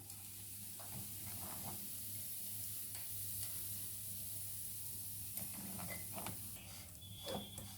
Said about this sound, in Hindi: फिर भी हम इसे थोड़ा सा और भून लेंगे, एक अच्छी सी सौंधी सी खुशबू आ जाए